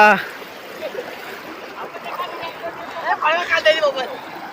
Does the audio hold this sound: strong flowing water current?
yes